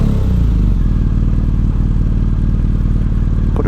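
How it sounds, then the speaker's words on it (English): A warm motorcycle engine fires up and settles into a steady, loud, close idle with a rhythmic low throb, no talking. "just letting you hear the sound of this amazing engine"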